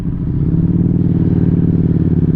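A motorcycle engine rumbles loudly and close, a deep, steady throbbing growl that holds for a couple of seconds.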